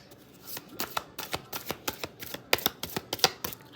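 Tarot cards are riffled and shuffled close up, a quick run of crisp flicking and slapping bursts in steady rhythm with no talk.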